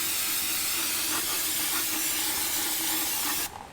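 Pressurised water spray washing contaminants off a vehicle differential before welding, a loud steady hiss running continuously and cutting off abruptly near the end.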